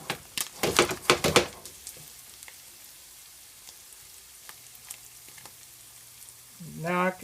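Ribeye steak frying in bacon grease in a pan, with a steady soft sizzle and crackle beneath a few louder handling knocks at the start and a brief scrape near the end.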